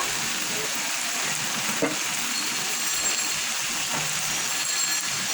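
Bitter gourd frying in oil in an uncovered pan, a dense, even sizzle that holds steady throughout, with faint scrapes of stirring now and then, close up and with no speech.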